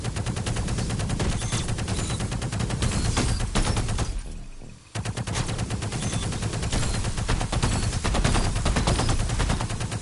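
Rapid automatic weapon fire in the VR game VR Invaders, a loud, dense continuous barrage that breaks off for about a second midway before resuming.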